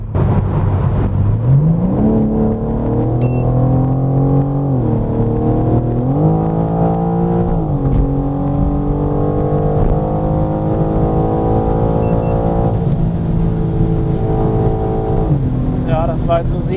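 A BMW M4 Competition G82 accelerates hard during a timed run, its engine note loud and close, climbing through several gears with brief dips at each shift. A voice talks over it.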